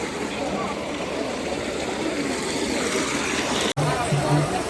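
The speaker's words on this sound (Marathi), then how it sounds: "हेच ते बाणगंगा येथील निरंतर वाहणारे पाणी." Continuously flowing water at the Banganga tank in Mumbai, a steady rushing stream sound heard close and fairly loud throughout, with faint crowd murmur underneath and a brief dropout near the end.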